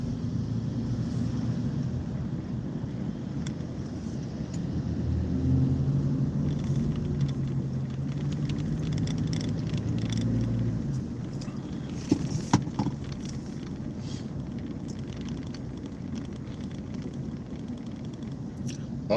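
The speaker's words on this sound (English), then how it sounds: "I am driving a work ute." A work ute hums along on an early-morning drive to work, its engine and road noise a steady low rumble inside the cab with a swelling drone midway and a few small clicks and knocks.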